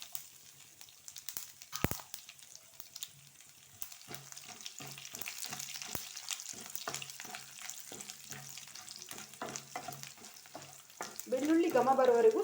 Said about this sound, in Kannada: ಬೆಳ್ಳುಳ್ಳಿ ಘಮ ಬರುವವರೆಗೂ ಸ್ವಲ್ಪ ಫ್ರೈ ಮಾಡ್ಕೊಳ್ಬೇಕಾಗ್ತದೆ